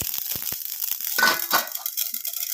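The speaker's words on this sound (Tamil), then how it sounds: "இப்போ பாருங்கள் கடுகு நல்லா பொரிஞ்சிருச்சு" Mustard seeds splutter in hot oil in a pan, giving a cluster of sharp crackling pops and hissing bursts, close and fairly loud, thinning into scattered faint pops.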